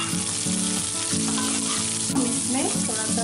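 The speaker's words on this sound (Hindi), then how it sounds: "अब इसमें ये मैं लंबे कटे हुए प्याज डाल दूंगी।" Long-cut onions frying in hot oil with browned ginger and garlic for arbi chilli, a steady close sizzle with occasional stirring clinks, and no one speaking.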